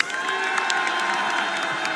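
A dense concert crowd at a show cheering and shouting loudly and continuously, with whoops rising from a roaring, sustained mass of voices.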